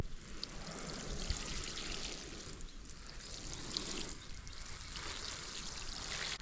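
Water pouring steadily onto pumpkins and sunflowers in a backyard garden, a faint, continuous trickling splash with no pauses and no voices.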